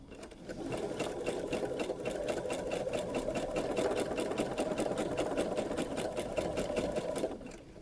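A sewing machine stitching free-motion embroidery appliqué runs steadily for several seconds, its rapid even needle chatter close and continuous before stopping at the end, with no talk.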